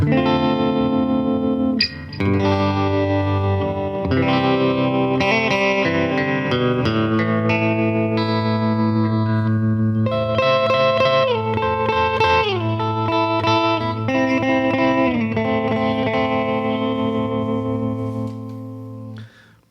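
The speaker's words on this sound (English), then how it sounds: "Little subtle tremolo, it's kind of sweet." A Gibson SG Special electric guitar with P90 pickups plays sustained chords and melodic lines with a subtle tremolo, gently pulsing and shimmering, loud and continuous before fading at the end.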